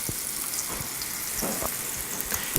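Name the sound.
chicken sizzling and browning in a pan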